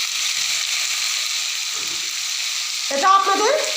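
Pumpkin and potato fry in a pan tempered with black cumin and onion, giving a steady close sizzle throughout, with a short scraping stir near the end.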